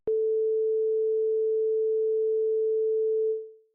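A single steady pure tone at the note A sounds alone, starting abruptly, holding evenly for over three seconds, then fading out smoothly.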